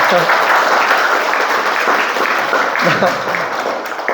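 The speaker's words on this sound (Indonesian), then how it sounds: "Tepuk tangan sama-sama." Loud, continuous group clapping from an audience at a general lecture, with voices audible within the applause.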